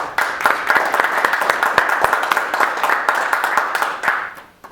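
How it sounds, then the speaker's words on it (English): Audience applause after a campus talk on elections and reality television, a moderate crowd clapping with distinct individual claps audible, steady before tapering off and fading out at the end. "Well, just one more round of applause."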